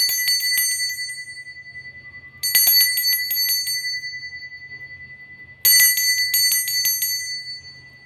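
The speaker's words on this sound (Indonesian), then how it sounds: "kita akan memulai dengan ditandai lonceng berbunyi" Three bright metallic bell strikes ring out at about two-and-a-half-second intervals to open a tarot card reading, each one clear and close, sustaining and slowly decaying against a quiet low hum.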